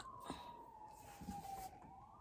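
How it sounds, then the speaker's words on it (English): Police sirens wail from outside, a steady rising and falling tone that stays moderately faint and distant over a low rumbling background, with no talk. "Now, come on, sirens."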